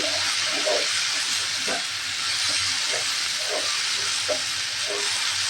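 Malabar spinach (puishak) fry sizzling steadily in a pan as it is stirred and mixed, a continuous broad hiss with soft, periodic scraping strokes.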